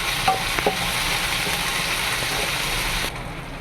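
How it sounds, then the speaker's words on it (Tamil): Steady sizzling of tomatoes frying in a pan for a spicy brinjal curry, with a couple of faint scrapes and clicks of stirring, continuous and close. "இப்போ இந்த அளவுக்கு நல்லா தக்காளி வதங்கிடுச்சு"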